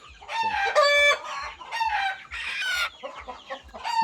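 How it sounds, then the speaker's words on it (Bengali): A rooster crows repeatedly among crested native (deshi) chickens at an integrated poultry farm, loud harmonic calls in bursts with clucking hens close by. "মোরগ"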